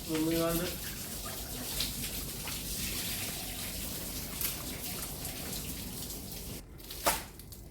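Water sprayed over a Toyota Lexus car during a wash, a steady rushing splash with scattered drips and bursts. A voice is heard briefly at the start.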